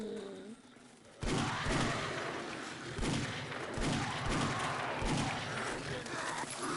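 Gunfire during a wandering horde fight in the video game 7 Days to Die erupts suddenly into a dense, sustained barrage of repeated sharp shots, loud and close.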